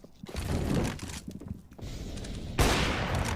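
Galil rifle bursts in a Counter-Strike match, rapid crackling gunfire in dense volleys with brief gaps, loud and close, ending in a heavier burst.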